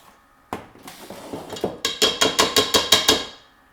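A whisk knocked repeatedly against a mixing bowl to shake off banana bread mixture: a close, bright series of about a dozen metallic clinks, starting sparse and irregular and then settling into a steady, quickening run of sharp knocks.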